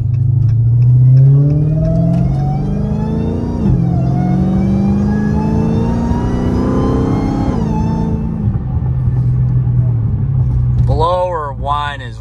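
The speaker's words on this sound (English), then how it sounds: "Blower whine is real." A 900whp supercharged Dodge Hellcat Charger accelerates hard, its supercharger whine and engine note climbing in pitch through the gears over a loud rumble, with people talking near the end.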